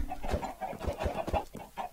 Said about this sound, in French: c'est relou, les poulets, par contre.